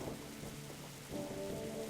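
Steady rain falls in a video game detective scene, a dense even hiss with a low rumble that swells slightly partway through, heard alone with no talking.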